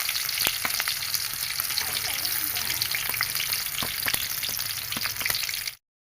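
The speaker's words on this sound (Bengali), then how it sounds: "আমার তেল গরম হয়ে গেছে। আমি এক এক করে প্রথম দিচ্ছি আমি পেঁয়াজ" Chopped onion hits hot oil and sets off a steady, bright crackling sizzle with scattered pops. It runs close and alone, then cuts off abruptly at the end.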